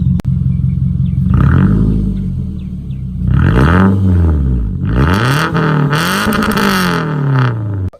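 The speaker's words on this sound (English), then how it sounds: "And now let's get to some revs." A loud, raspy engine of a 2004 Toyota Camry with a muffler delete idles, then revs up sharply several times in quick bursts, a deep unmuffled roar close by.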